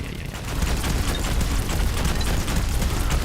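Corpse Bomb explosions in the video game Vampire Hunters go off as a continuous, dense barrage of booms and crackling blasts, loud and unbroken, with game gunfire mixed in.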